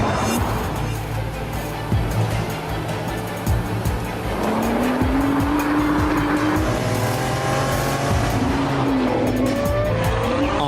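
A Nissan GT-R R35 supercar accelerating hard, its engine note climbing loud and close through successive gears, with tire noise mixed in.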